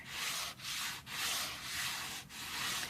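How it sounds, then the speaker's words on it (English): A dye ink pad rubbed lightly across faux leather gives a steady broad scuffing swish in long strokes with brief pauses between them, close and continuous, with no voices. "Here's a Ranger dye ink pad. So you can just lightly rub that over."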